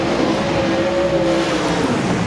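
Super sedan race car roaring past at Albany Speedway, with a loud, continuous engine drone that shifts in pitch as it passes close by.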